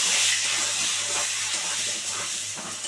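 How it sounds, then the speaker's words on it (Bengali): An egg seasoned with salt and turmeric fries in a pan with a steady, fairly loud hissing sizzle that holds evenly, with slight fluctuations and no other sounds. "এবার একটা সুন্দর করে ভেজে নেবো"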